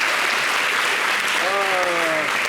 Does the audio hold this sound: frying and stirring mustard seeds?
no